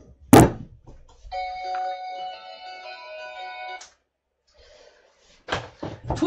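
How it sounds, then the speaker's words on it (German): A telephone rings with a tonal, steady electronic chime lasting a few seconds, framed by a thump at the start and knocks at the end, close and clear with no talking. "Tut mir leid, aber bevor das jetzt 10 Minuten klingelt, ist es so einfach besser."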